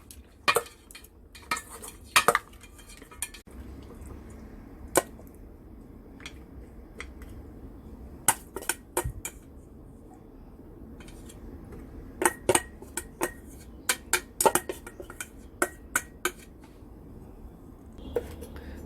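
Steamed fish head being tossed with ginger in a bowl, utensils clinking against the dish in scattered sharp taps and scrapes over a low kitchen hum, close and moderately loud.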